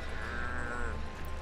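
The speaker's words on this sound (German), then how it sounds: "Wir sollen die Kühe wieder reinbringen in den Streichelzoo." A cow in the petting zoo of the Toy Story 3 PS3 game gives a single low, drawn-out moo, quiet and clear with no talking over it.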